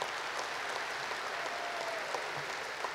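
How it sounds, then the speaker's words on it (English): A crowd applauds steadily for three seconds during a 2021 speech event, the dense clapping holding an even, fairly loud level throughout with no voices over it. "Please give her a round of applause."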